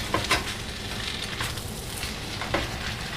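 Rice vermicelli (mee hoon) is stir-fried in a pan as MSG seasoning is mixed in. A steady close sizzle runs throughout, with a few sharp scraping clicks from the stirring utensil.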